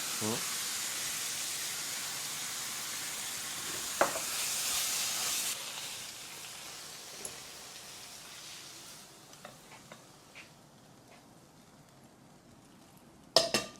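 Banana peels, venison and black mushrooms sautéing in a pan with oyster sauce: loud steady sizzling that fades over several seconds, with scattered clinks and scrapes of a utensil against the pan and a sharp clatter near the end.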